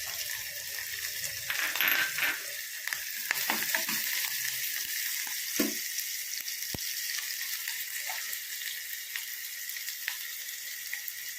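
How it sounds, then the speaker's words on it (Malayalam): Chopped ginger and green chillies sizzle in a pan for a Kerala green grape pachadi, a bright, steady hiss that flares loudly as they hit the oil, with scattered clinks and scrapes of a spoon on the pan. "ഇഞ്ചിയും പച്ചമുളകും അരിഞ്ഞത് അതും ഇട്ട് കൊടുക്കാം"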